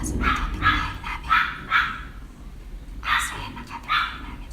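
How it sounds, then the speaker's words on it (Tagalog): Several barks from a neighbor's dog nearby, arriving in two bursts with a pause between, over low background rumble. "Aso yan ang kapitbahay namin"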